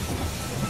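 A train pulls into a station in the strategy game They Are Billions, a steady low rumble with a rolling rail clatter under a faint hiss, close and continuous throughout.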